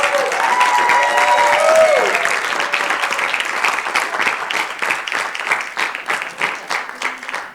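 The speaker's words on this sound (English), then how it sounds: "Give them another round of applause." Audience at a spring music recital gives a loud round of applause, dense clapping that swells over a fading held note, then thins into scattered individual claps.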